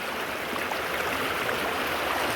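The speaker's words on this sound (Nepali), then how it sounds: "यो मजाले आउँछ पानी" Running water from a river crossing on the way to Rangamati, a steady, dense rushing wash with no breaks, loud and close.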